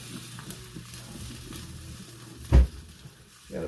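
Pork chops frying in a pan give a steady low sizzle with soft stirring scrapes, one sharp knock of a utensil against the pan partway through, then the sizzle swells again near the end.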